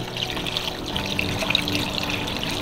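Water gushes and splashes from a fish tank filter in a hexagon aquarium being refilled, a steady close pouring and trickling sound.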